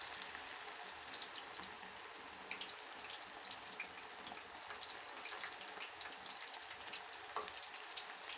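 Tempe frying in hot oil for kering tempe, a faint but steady crackling sizzle with a dense patter of small pops throughout, no voices.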